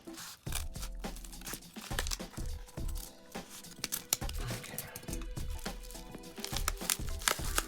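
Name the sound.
cutting open a paper mailer with scissors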